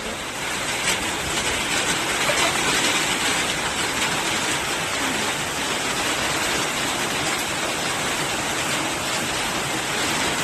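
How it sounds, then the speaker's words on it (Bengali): Heavy rain pours down steadily for ten seconds, a loud, dense, unbroken hiss of falling water with no gaps or voices. "যাবো কী করে এখন বৃষ্টি জোরে হয়ে গেল যে"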